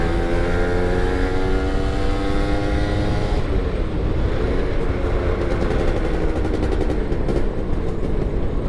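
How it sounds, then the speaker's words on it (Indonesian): A truck engine revs hard close by, with a loud rising harmonic whine that drops off midway into a rough, rattling roar continuing at high level, no voices over it. "Pokoknya ini gas truk bener nih bro."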